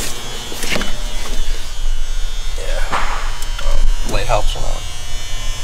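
Power tool grinding during car gauge wiring work, a continuous close buzzing whine that holds steady for several seconds while a person speaks over it.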